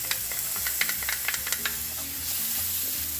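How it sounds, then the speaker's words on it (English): Minced garlic sizzling in a frying pan for a stuffed pepper filling, a steady close hiss punctuated by quick scraping taps of a stirring utensil in the first half. "So I'm going to put some minced garlic in here."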